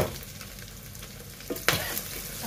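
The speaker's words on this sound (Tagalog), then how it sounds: "Ihalo na natin lahat." Chicken feet adobo sizzles in a pan with bay leaf, crushed black pepper and chili, a spoon stirring through the frying with a couple of sharper scrapes and clacks toward the end.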